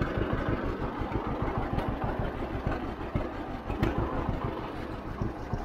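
A 1951 John Deere A tractor engine running steadily nearby, a continuous low chugging rumble with a rapid, even pulsing beat and no breaks.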